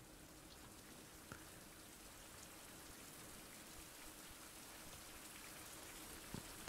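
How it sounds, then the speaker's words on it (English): Video game rain: steady rain patters evenly in a jungle, soft and fairly quiet, with a few isolated drops standing out; no voices. "it's raining again"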